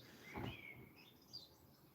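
A bird gives a short chirp with a rising whistled note, then softer faint calls in the distance, heard faintly from outdoors through an open window on a windy day.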